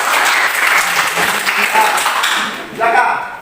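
A classroom of students applauds, brisk clapping that fades out while someone speaks over it near the end.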